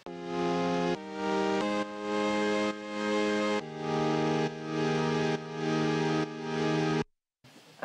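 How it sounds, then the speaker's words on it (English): Old vintage Yamaha keyboard sample sounding a row of about seven held chords, each swelling slightly before the next, bright and harmonically rich, then cutting to a brief silence. "The next patch is a sample from an old Yamaha vintage keyboard"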